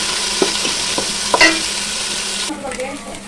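Oil sizzles steadily in a pan as spices fry for chicken biryani, while a spoon scrapes and clicks against the metal every so often. Nobody speaks.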